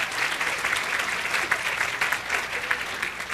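Audience applause filling a conference hall for a woman named Jill, steady and dense throughout with scattered cheers, no individual voices standing out.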